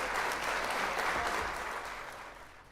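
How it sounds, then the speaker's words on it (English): A short burst of dense clapping from a group, loud at first and gradually fading out. "I'll give you a little round of applause."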